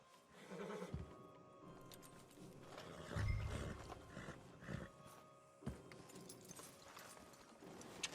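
Horses in the video game Red Dead Redemption 2, with hooves clip-clopping at an uneven pace alongside whinnies and snorts, a deep rumble in the middle, and faint ambient outdoor sound, no talk.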